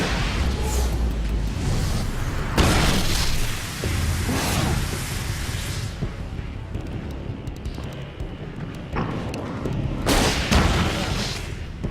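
Flare gun fired in the video game Alan Wake's American Nightmare, loud booming blasts and bursts of rushing noise with sharp cracks amid a dense game soundscape.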